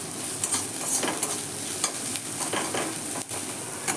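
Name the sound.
chopped onions frying in a pan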